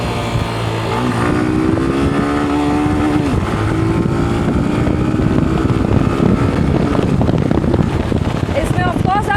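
A Hero Glamour motorcycle engine revs as the throttle is worked, rising and falling in pitch amid rushing wind noise while riding, with a voice talking over it.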